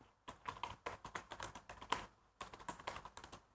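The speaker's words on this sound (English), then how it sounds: "So I will type here a comment as a program" Rapid, irregular keystrokes on a computer keyboard while a comment is typed into a program, close and clear, with short pauses between bursts and no voices.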